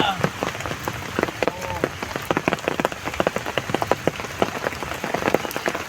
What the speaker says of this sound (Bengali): বৃষ্টি হচ্ছে বন্ধুরা, ওয়েদারটা খুব ভালো আছে।